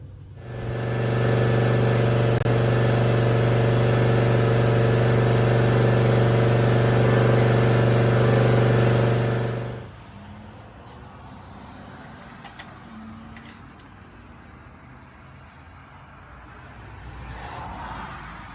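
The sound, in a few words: John Deere Z320R zero-turn mower engine running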